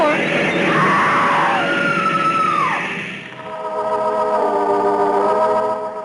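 A woman screams in a radio drama, a long, loud, rising and falling shriek at a train platform, followed by a train grinding and squealing to a stop.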